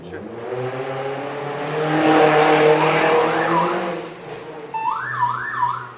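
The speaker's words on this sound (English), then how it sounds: "Road racing." Road racing cars pass with a rising and falling engine drone, tire squeal, and a wavering alarm-like tone near the end, fairly loud.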